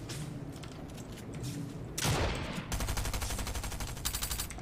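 Gunfire in the Fortnite video game, including tactical shotgun fire: a heavy close blast followed by rapid bursts of automatic shots over a continuous battle din, with no talking.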